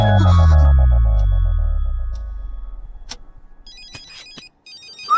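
A loud electronic phone ringtone rings with a repeating beeping pattern, fading as it continues, followed by clicks and a brief return of the tones.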